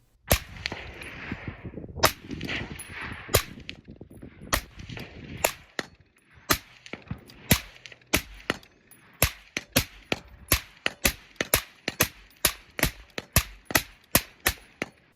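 Two suppressed 12.5-inch 5.56 rifles, one fitted with a 5.56 suppressor and one with a 30 cal suppressor, fire a long string of sharp shots at a steady, brisk rhythm, some overlapping early on, all fairly close.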